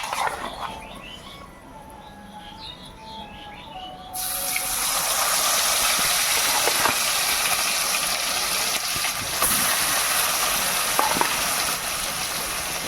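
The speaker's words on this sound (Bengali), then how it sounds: "এই ম্যারিনেট করা মাংসটা এবার আস্তে আস্তে দিয়ে দেবো" Marinated goat meat going into hot oil in a pressure cooker: after quiet kitchen background, a sudden loud, dense sizzle erupts and roars on steadily, close up, with faint clinks over it and no talking.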